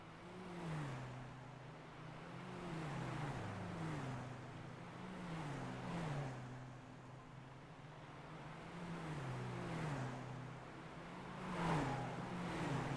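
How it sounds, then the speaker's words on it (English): Diesel VW Jetta Cup race car engines roar past in repeated waves at Lime Rock, pitch rising and falling as each car sweeps by at a distance, steady and loud throughout. "Listen to that engine."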